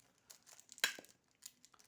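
Quiet crinkling and tearing of plastic packaging from a model airplane kit, a few short rustles with one sharper rip in the middle, close and soft.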